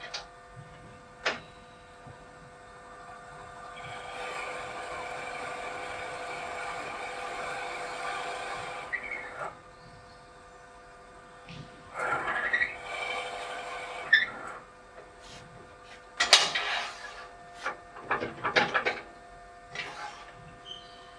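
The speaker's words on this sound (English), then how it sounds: "So let's just slow the lathe" Wood lathe running at a slowed speed with a Nova Dome jaw chuck, a steady tonal motor hum with faint ticking, later broken by brief louder bursts of cutting or tool contact, fairly quiet and close.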